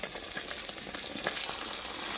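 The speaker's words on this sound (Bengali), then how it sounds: "মাছ ভাজা হয়ে গেল নাকি হ্যাঁ মাছ ভাজা হয়ে গেছে" Pieces of katla fish fry in hot oil, a bright, steady sizzle with crackling pops and occasional stirring, close and continuous with no talking.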